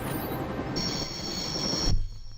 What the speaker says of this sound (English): I'd always wanted to stop the train, and now was my chance